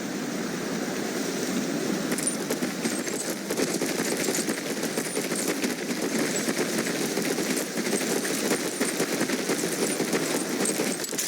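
Gunfire crackles across a firing range in the World War II shooter game Medal of Honor: Pacific Assault, a dense continuous fusillade of overlapping shots that stays loud and steady throughout with no pauses or speech.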